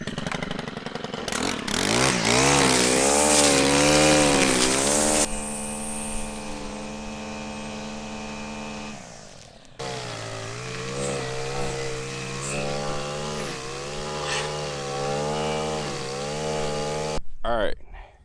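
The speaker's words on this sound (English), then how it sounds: "Fire up this 111 horsepower racing weed eater right here" A 111-horsepower racing weed eater engine fires up and revs loudly, its pitch climbing and falling in repeated sweeps, cutting out briefly before restarting and revving again.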